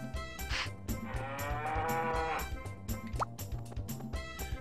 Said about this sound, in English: We gotta talk and brush our cow and feed it.